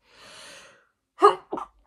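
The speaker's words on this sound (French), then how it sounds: "Et voilà que j'éternue." A woman sneezes once up close after a soft breathy intake, a sharp burst followed by a shorter second catch, in an otherwise quiet room.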